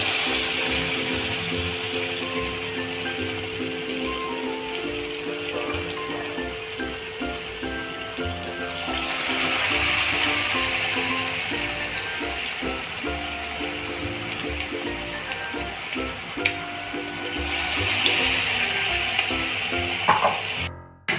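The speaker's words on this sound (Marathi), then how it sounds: "आता ह्याच्यामध्ये हा गोळा ठेवायचा आणि असं वरून हे बॅटर टाकून घ्यायचं आणि हे तळायला घ्यायचं" Egg balls coated in batter frying in hot oil, with a steady, busy sizzle and crackle running throughout at moderate loudness and no talk.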